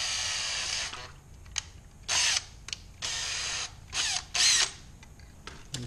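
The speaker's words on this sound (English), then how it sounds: "So I'll go ahead and drill in the center of those." A power drill bores holes into metal backed by a magnet, giving five short high-pitched whining bursts separated by brief pauses, close and loud.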